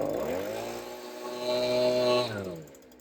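A small two-stroke engine on a blower or chainsaw revs up from idle as the throttle trigger is pulled, holding a loud high whine for about a second before dropping back down.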